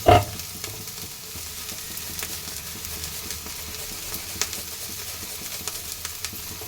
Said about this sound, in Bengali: নাড়া দাও, আঁচটা কমিয়ে কমিয়ে ভেজে নেব।